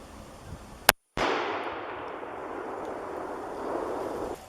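A single sharp, loud rifle shot firing a 180 grain SST bullet into water-filled target jugs at 50 yards, followed by a long rolling echo that slowly fades outdoors.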